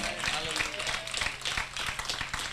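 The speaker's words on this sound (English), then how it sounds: "give a round of applause, louder applause" A church congregation applauding at a sermon, steady mid-distance clapping with a loose rhythm that continues evenly throughout.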